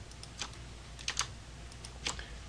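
Computer keyboard keys tapped as shortcuts while UV unwrapping a 3D model of the TARDIS: a handful of light, irregular clicks, close and fairly quiet over faint room noise.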